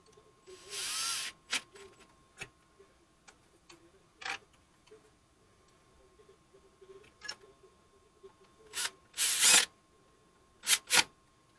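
A small handheld power driver runs in short separate bursts while screws go in to mount a service door, with brief whirring spurts between quiet ticking and clicking of the mechanism, close by and with no talking.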